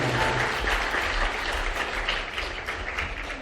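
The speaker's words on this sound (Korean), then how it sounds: "박수 한번 보내주시기 바랍니다" Wedding ceremony guests applaud in a steady, dense burst of clapping that fills the room and fades slightly toward the end, with no voices over it.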